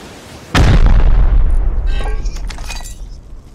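A single loud, close blast from an incendiary rocket in the game Rust, a sharp boom with a long rumbling decay and scattered debris crackles afterward.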